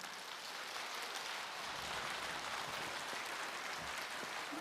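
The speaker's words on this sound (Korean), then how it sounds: "여러분 박수 부탁드립니다" Audience applause at a choral cantata concert, a steady dense wash of many hands clapping together that stays even and sustained from start to finish, moderately distant and with no voices heard over it.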